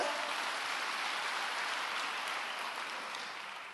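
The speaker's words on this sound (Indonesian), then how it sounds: "Yang percaya tepuk tangan bagi Allah kita" Church congregation applauding during a sermon, a soft, even wash of many hands clapping together at a distance that fades gently toward the end.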